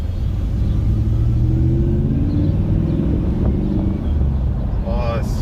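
A Nissan Navara D40 fitted with a V8 engine cruises with a steady, deep rumble inside the cab, with wind noise and some talking over it.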